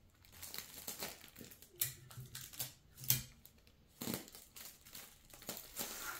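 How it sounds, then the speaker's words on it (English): Adhesive tape crinkles and rips as it is pulled and pressed onto the wrap of a dollar-store Mother's Day gift basket, a run of close, quiet crackling and tearing bursts with brief pauses. "Grab your tape and tape it."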